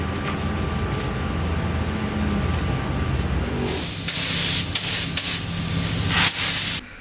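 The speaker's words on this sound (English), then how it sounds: "now I'm going to clean with wax and grease remover" A steady background rumble, then a run of short bursts of hissing aerosol wax and grease remover spray on brakes, close by and fairly loud.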